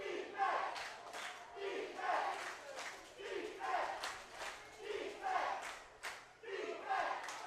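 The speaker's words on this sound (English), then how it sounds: "Listen to this crowd, Steve." Football crowd at a Valley Huskers home game against the Kamloops Broncos, rising and falling in repeated surging waves of cheering and shouting, heard from a distance and fairly faint.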